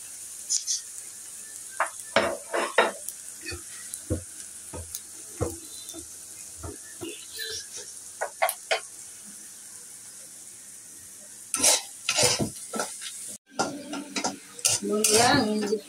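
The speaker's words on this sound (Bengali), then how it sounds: "আমি যে পেস্টটা লাল করে ভেজে নিয়েছি" Onion paste being fried for a fish curry, heard as a soft sizzle under scattered spatula scrapes and clinks against the pan, with a burst of busier stirring and clatter near the end.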